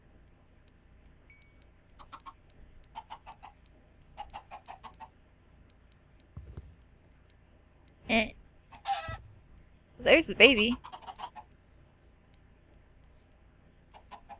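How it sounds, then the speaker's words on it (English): Chickens in Minecraft let out a few soft clucks, with a couple of louder bursts in the middle. Someone speaks briefly between them in a quiet game setting. "that must be why I've got little chickens running around like crazy"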